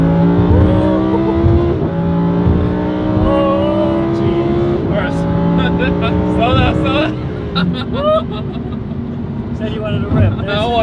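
A supercar engine roars and revs, rising in pitch as it accelerates, with people talking and exclaiming over the loud drone.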